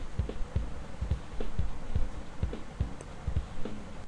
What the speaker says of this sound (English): This is the sound of kick out.